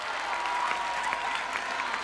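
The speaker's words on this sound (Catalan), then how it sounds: "Un aplaudiment, us els presento." An audience applauds the seventeen finalists at a spelling-contest final, a fairly soft but continuous wash of many hands clapping that stays even throughout.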